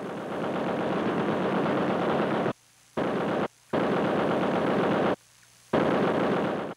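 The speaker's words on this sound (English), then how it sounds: "tracks mounted several weapons, including at least one 50 caliber machine gun, a weapon too heavy to carry on foot." A .50 caliber heavy machine gun mounted on armored tracks, heard in the Vietnam War, fires long loud sustained bursts broken by three short pauses, the hammering continuous and close with no voices.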